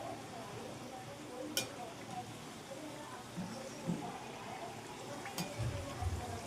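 Matar kachori frying in hot oil over a medium gas flame, a steady soft sizzle with occasional stirring clinks and bubbling pops, voice faintly present.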